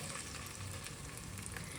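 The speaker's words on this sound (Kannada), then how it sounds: "ಈಗ ನೋಡಿ ಈರುಳ್ಳಿ ಬೇಯ್ತಾ ಇದೆ." Ground masala paste frying with onions in a hot pan gives a steady, close sizzle that runs without a break, with no talking.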